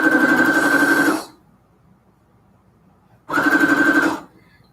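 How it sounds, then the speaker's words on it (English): A sewing machine stitches fabric scraps in two bursts of steady, fast mechanical whirring, loud and close, separated by a couple of seconds of near silence. "Just sewing."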